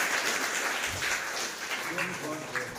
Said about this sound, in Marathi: जरा टाळ्या वाजवायच्यासाठी सगळ्यांना.